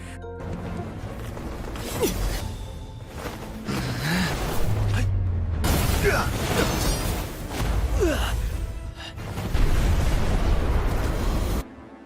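Animated explosion as an elder blows himself up amid battle chaos, a dense, roaring blast with crashing debris and rumbling that swells and persists over about twelve seconds, with layered impacts and no speech.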